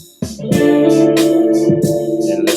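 Looping 808 beat with chords and a lead line: a deep booming kick enters after a brief pause, then sustained synth chords and a melodic lead ride over crisp hi-hat bursts, loud and continuous.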